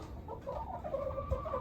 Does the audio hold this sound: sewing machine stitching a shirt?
no